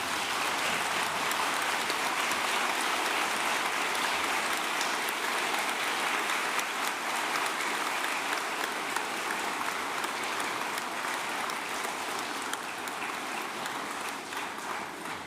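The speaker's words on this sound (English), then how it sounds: "please stand and join me in offering them our sincere thanks and appreciation with a warm round of applause" Sustained, dense applause from a graduation audience at a civil engineering and surveying ceremony fills the hall steadily and loudly, without a break, for about fifteen seconds.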